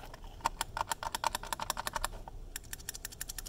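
Long-travel mechanical keyboard switches, one lubricated and one not, are pressed repeatedly in quick bursts, giving crisp close clicks and clacks with a short pause midway.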